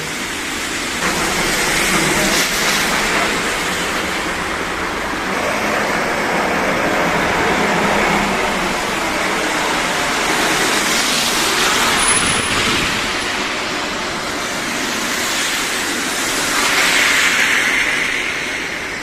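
Heavy road traffic crawling through snow, a steady close wash of engines and tyres that swells and fades gently and carries on without pause.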